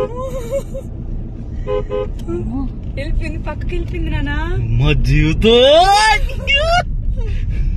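Loud car horn toots repeatedly over road traffic, with several rising and falling honks close by, the last ones longest.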